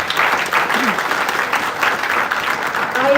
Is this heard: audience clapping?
yes